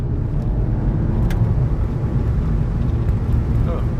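A VW Golf 7 GTI driving in sport mode with the gearbox in manual, a steady low engine and road rumble heard from inside the cabin, continuous and fairly loud with no clear gear changes.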